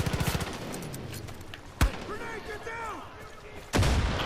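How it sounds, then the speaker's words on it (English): Gunfire in Far Cry 5 close combat: a quick burst of automatic shots, then a sharp single crack, distant calls, and another loud shot at the end, with a voice under the noise. "I'm getting shot from all angles."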